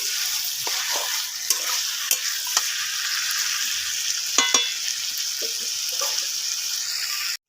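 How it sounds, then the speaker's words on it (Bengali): Taro leaves cooking with spices and fried hilsa fish head in a frying pan give a steady, close hiss of sizzling oil, punctuated by scattered scrapes and clinks of a spatula stirring the pan. "দিয়ে ভালো করে নেড়ে নেব।"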